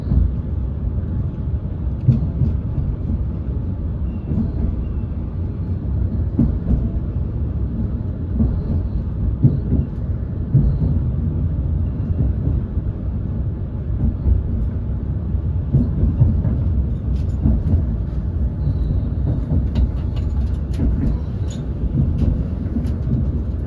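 A train pulls away from Inverness Airport station, a steady low rumble of wheels and carriage noise that holds at a constant level throughout, with no voices.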